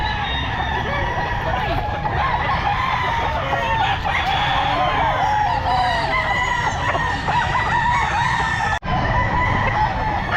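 Kelso gamefowl roosters crow over and over inside a crowded pet market, dense overlapping calls from many birds forming a steady loud chorus with one brief dropout near the end.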